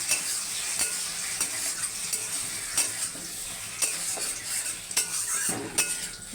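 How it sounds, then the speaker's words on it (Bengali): A spice paste of ground cumin and turmeric fries in oil in a pan, a close, steady sizzle broken by the scrape and clink of a spoon stirring it. "হলুদ দেবো, মশলাটা কষিয়ে নেব।"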